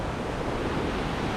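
The first of five waterfalls at La Paz Waterfall Gardens in Costa Rica pours with a steady, dense rushing roar, constant and fairly loud, with no voices.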